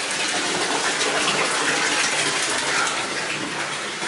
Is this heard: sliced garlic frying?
no